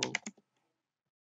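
Brief burst of typing on a computer keyboard while entering basic web page code, a few quick clicking keystrokes up close, then silence.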